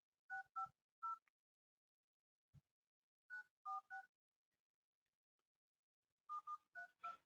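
Touch-tone phone keys beep in three quick clusters of two-tone dial tones, each press short and crisp, separated by pauses in otherwise quiet surroundings.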